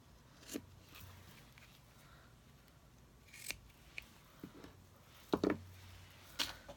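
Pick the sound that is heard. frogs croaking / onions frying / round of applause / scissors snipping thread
scissors snipping thread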